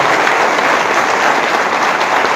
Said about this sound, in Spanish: Le damos un fuerte aplauso a estas dos hermanas que nos acompañan.